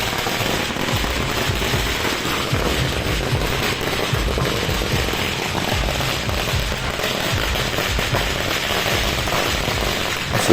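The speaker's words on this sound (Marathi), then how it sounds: "पहिले माझ्यासाठी फटाके फोडले" String of firecrackers set off outdoors in Amravati to welcome a guest, rapid nonstop popping and crackling that holds loud and near for about ten seconds, with no voices.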